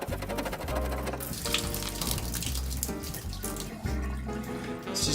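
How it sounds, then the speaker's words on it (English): Water running steadily from an opened bathtub valve during a leaking tub valve repair, a continuous close splashing flow with faint metallic clinks, no talking. "It's just some excess water coming out"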